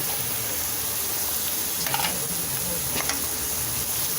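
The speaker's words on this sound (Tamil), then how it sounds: "ரொம்ப வதங்கணும்னு இல்லை, 2 நிமிஷம் வதக்கினா போதும்." Cabbage, capsicum and onion sautéing in a hot pan for Schezwan fried rice, giving a steady close sizzle and hiss with a couple of brief stirring scrapes.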